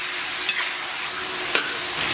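Pork belly, then chicken, is stir-fried in a hot wok with a little lard, producing a close, constant sizzle and spatters, punctuated by two sharp clacks of the spatula against the metal.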